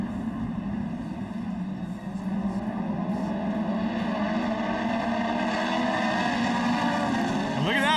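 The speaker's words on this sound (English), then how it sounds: "These Super Buggies are fired up, leaving a roost behind them. And here they come into Forest County" Super Buggy off-road race cars at the Crandon Brush Run, entering turn one, give a sustained loud engine roar that rises and shifts pitch as they close in, with commentary over it.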